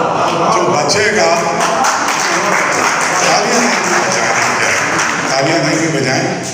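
Audience applause fills a hall at the Arts Council of Pakistan during a memorial gathering for a singer, a steady dense wash of clapping with voices underneath.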